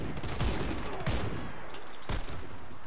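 Automatic weapon fire in the shooter game Warface, several rapid bursts of shots with a pause in the middle and another sharp volley near the end, all fairly quiet and with no talking.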